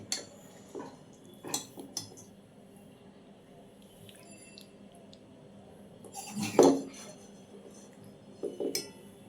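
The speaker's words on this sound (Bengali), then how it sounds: "এবার আমি সার্ভিং প্লেটে আপনাদের সার্ভ করে দেখাচ্ছি" Cooked Malabar spinach greens with lentil dumplings are served onto a plate: sparse clinks and scrapes of a spoon against dishware, fairly faint and close, separated by quiet pauses.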